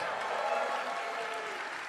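Audience applause and cheering at a live Death Stranding 2 gameplay premiere presentation, a steady wash of clapping from a large crowd that holds at an even level throughout.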